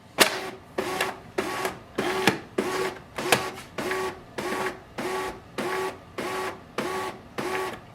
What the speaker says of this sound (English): Wait for the printer to stop this sound.